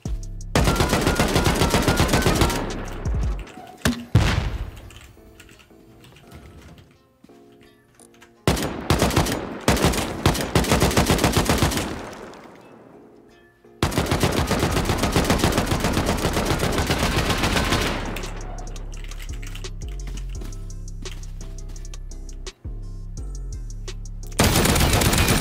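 Video game combat with grenade launcher rounds and heavy gunfire, loud sustained bursts of automatic fire and blasts in several long volleys separated by brief quieter gaps, no voices.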